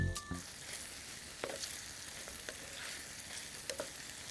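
Vegetables for a vegetable stew fry in a pan with a soft, continuous sizzle, with a few light clicks and scrapes of stirring, quiet and without talk.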